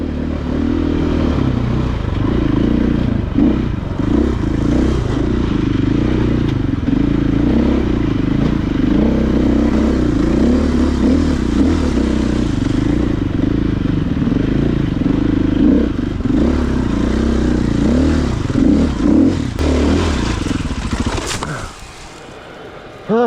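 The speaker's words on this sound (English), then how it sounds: "I'll just let you enjoy the motorbike sound" A motocross bike works up a rocky trail loop, its engine droning loud and steady close to the mic, with clattering and scraping from stones under the tyres, then cutting out abruptly near the end.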